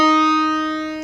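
A Realistic MG-1 synthesizer holds a steady, bright, buzzy tone rich in harmonics, sustained alone and fading slightly over about a second.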